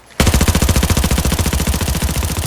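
An AR-57 rifle fires in Arena Breakout as a sudden, steady full-auto burst of evenly spaced, punchy shots. It is close and loud, runs for about two seconds, and no one talks over it.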